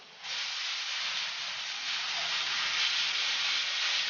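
A steak's sides searing in a hot pan, a steady, loud sizzling hiss that starts abruptly and holds evenly throughout, with no talk.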